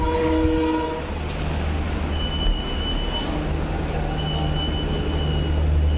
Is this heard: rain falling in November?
no